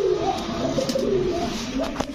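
China khaki pigeons, a pair, coo softly in low, repeated rolling calls, close by under a steady hiss of background noise.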